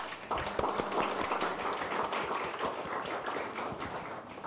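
An audience at a monologue theatre performance gives a round of applause, a steady patter of many hands at moderate, somewhat distant loudness lasting several seconds.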